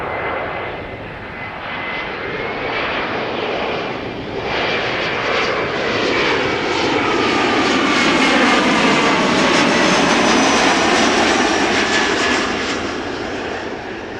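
A KLM jet arriving from Prague roars loudly and close on its landing approach at Amsterdam Schiphol. The engine noise swells steadily to a broad rushing peak with a whining tone, then slowly fades, with no talk.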